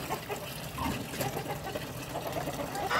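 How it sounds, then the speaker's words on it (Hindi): Fresh water runs steadily into a container for backyard desi hens kept on a rooftop, a continuous close trickling and splashing that lasts throughout with faint background sounds. "पानी भरते हैं"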